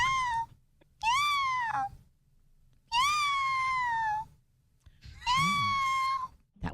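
A person imitates a cat, giving four drawn-out, whiny meows separated by short pauses, close and fairly loud with no other sound behind them.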